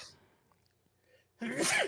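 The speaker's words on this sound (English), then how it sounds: "Had a sneeze." A single sharp sneeze bursts out near the end after a near-silent pause, close and loud.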